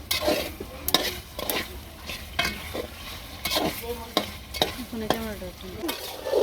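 Rohu fish fries in a pan with spice paste while a spatula stirs it in a steady rhythm, each scrape cutting through a constant low sizzle.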